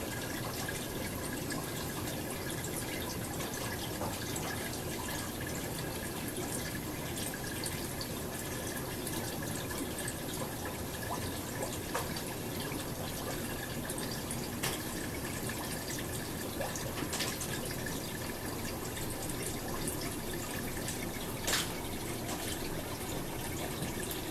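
Water pours steadily and continuously during an aquarium water change in a home fish room, a constant splashing wash with occasional small drips, fairly quiet and with no voices.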